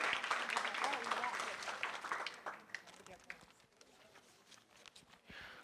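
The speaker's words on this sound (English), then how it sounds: "I think she deserves another round of applause." Applause at a JROTC military ball fills a hall, dense and fairly loud at first, then thinning into scattered claps and fading under murmured talk before a brief swell near the end.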